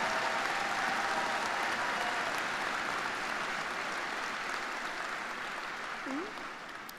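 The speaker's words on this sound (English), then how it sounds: "Let's give all of our talented musicians one last round of applause." Sustained applause from a crowd at a high school commencement, honouring the student musicians. It is broad and steady and tapers off slightly toward the end.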